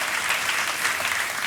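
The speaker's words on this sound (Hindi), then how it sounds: "तालियों के साथ इनका स्वागत किया जाए" A studio audience on a television quiz show claps loudly with dense, even applause throughout the short moment.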